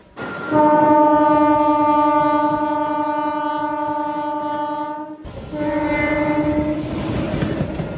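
The Simhadri Express running on the Guntur–Visakhapatnam main line sounds a loud, sustained, multi-tone horn blast lasting several seconds, then a second shorter blast over the heavy rumble of passing carriages.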